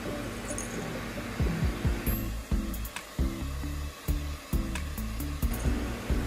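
Electric mixer at low speed beating marble butter cake batter with milk powder, a steady whirring hum with rhythmic thumping knocks of the beaters against the bowl, close and continuous with no talk.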